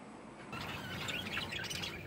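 A bird squawks and chirps in a short burst of calls close by, recorded in Thailand, with no one speaking.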